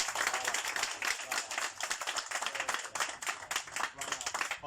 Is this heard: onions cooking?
no